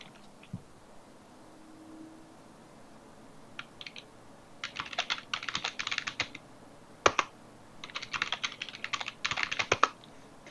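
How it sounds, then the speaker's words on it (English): A password is typed on a computer keyboard, a few isolated taps followed by quick, close clusters of clicking keystrokes with short pauses between bursts. "Type in my password"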